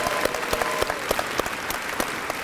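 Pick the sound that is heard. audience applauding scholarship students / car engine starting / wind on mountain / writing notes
audience applauding scholarship students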